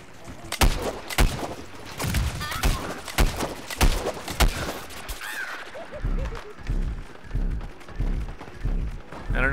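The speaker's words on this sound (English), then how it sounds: "I don't know what was shooting me, but something was definitely shooting me." Gunfire in the Plants vs. Zombies Garden Warfare video game: a burst of sharp, loud shots in rapid succession over the first few seconds, then muffled thuds and rumbling game noise.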